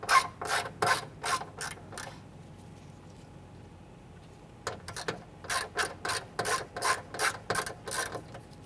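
A ratchet clicks in two quick bursts of rapid, close strokes, separated by a pause, while backing out a 7/32 screw from the rear door of a 1995–2001 Ford Explorer during a window regulator replacement.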